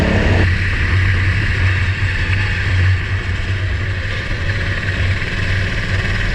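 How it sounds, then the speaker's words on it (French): A racing car engine on a greasy, wet track holds a loud, steady drone with a low rumbling hum throughout, no voices. "J'ai un bon moteur."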